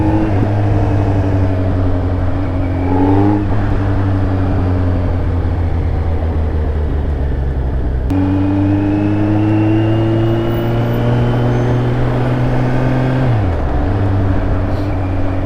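Kawasaki Z900 motorcycle engine running close by in a steady, loud drone, its pitch shifting slightly a few times as the revs change, with no voices.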